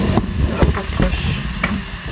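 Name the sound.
onions frying in a covered pan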